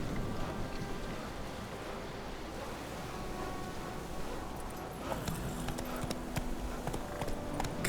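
Hooves of Roach, a horse in The Witcher 3 video game, clip-clopping steadily over a continuous rushing ambient bed, with sharper hoof strikes standing out in the later part.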